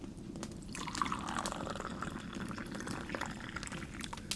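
Hot water poured slowly from a kettle into a mug: a steady, soft liquid stream with gentle trickling and splashing, faint and continuous throughout, with no voices.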